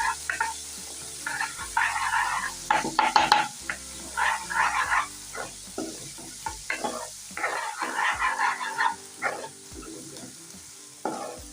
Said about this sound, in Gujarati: આપણે લસણને અત્યારે આની અંદર નાખી દેશું અને આ રીતના બધું સરસ શેકી જશું